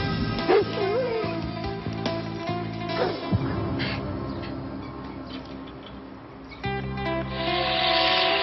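A dog yips, barks and whimpers in short bursts over a busy background of music and other noise, fairly close.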